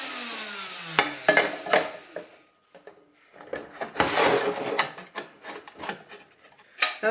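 Grinding on a metal bracket for the rear air suspension of a 1976 Mazda RX-5 Cosmo under restoration, heard as short rasping bursts that stop and start in uneven passes, close by and fairly loud.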